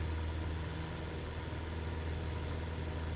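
A single-engine propeller aircraft in Microsoft Flight Simulator 2024, held at 2,400 RPM during a skydive mission climb, drones steadily as a low, even hum with no talk over it.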